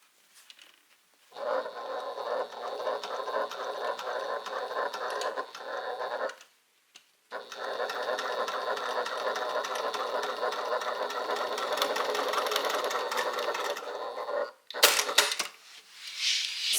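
A sewing machine stitches a bag in a long steady whir, pausing briefly around the middle, then running on before a few clicks and a short final burst.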